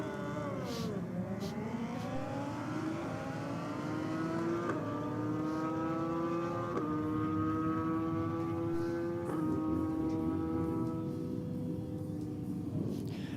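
Big bore drag racing motorcycles scream past at a bracket race, engines climbing in pitch through several rapid gear shifts, loud and sustained at the strip with no talk over them.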